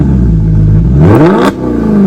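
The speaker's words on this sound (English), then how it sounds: "I'm going to play now for you just what these twin exhausts sound like" A Maserati GranTurismo engine revs up sharply through twin exhausts, its throaty note climbing in pitch before dropping back, loud and close.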